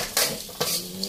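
Fried field rat meat is stir-fried in a pan, with two sharp metallic scrapes of a spatula against the pan over a faint background sizzle.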